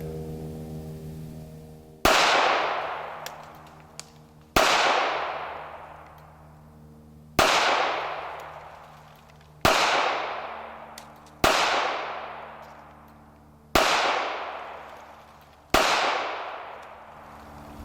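A Ruger LCP II pistol fired at a target outdoors: seven sharp, loud shots spaced about two seconds apart, each trailing off into a long echo, with no talking.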